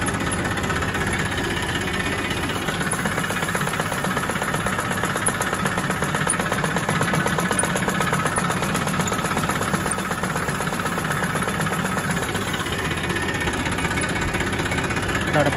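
A tractor engine runs in a farm field during sowing work, a continuous mid-to-low rumble with a slight knocking vibration, steady and fairly close throughout with no clear voices.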